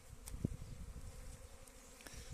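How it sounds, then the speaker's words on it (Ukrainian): Honeybees buzz faintly around a hive entrance, returning with pollen, a low droning hum with a few brief louder passes close by. "вже бджоли йдуть повним ходом з пилком, багато з пилком вже йдуть"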